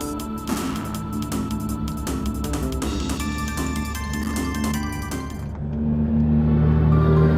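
Loud car engine rumble under busy game music, the low roar swelling and growing louder toward the end, with no talking.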